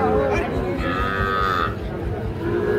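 A Sahiwal calf at a cattle market gives a loud, close, drawn-out moo lasting over a second, with low market bustle around it.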